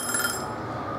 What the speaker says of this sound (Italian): È suonato il timer, quindi la nostra zucca è pronta.